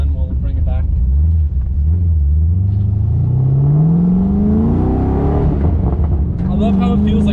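A Pontiac Solstice swapped with an LS3 V8 pulls away at light throttle, its deep, loud rumble heard close from inside the car, rising smoothly in pitch as it accelerates, then settling back to a lower drone.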